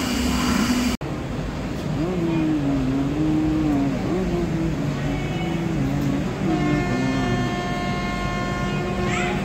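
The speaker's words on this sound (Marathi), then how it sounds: "स्टेशन आहे भुसावळ स्टेशन जंक्शन" A train at Bhusawal Junction railway station, with a loud, steady rumble of rolling stock and a drawn-out wavering horn-like tone carrying through the station.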